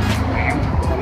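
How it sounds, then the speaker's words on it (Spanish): A car speeds past on a street with no sidewalk, a brief close rush of engine and tyre noise. "Esos carros pasan aquí en recio."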